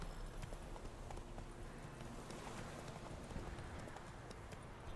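A video game horse gallops in a rapid, even clip-clop of hooves, faint and continuous throughout with a low background rumble.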